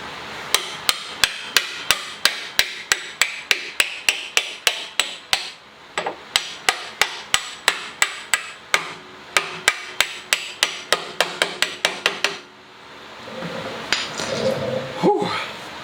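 Repeated hammer taps on a motorcycle part during a Yamaha Royal Star upgrade with Harley-Davidson Enforcer wheels, a fast steady run of sharp metallic strikes, close and loud, that pauses briefly and ends with rustling handling noise.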